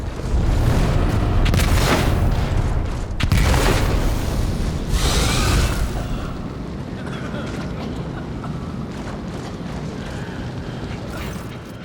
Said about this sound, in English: The roar of the flames rings in your ear.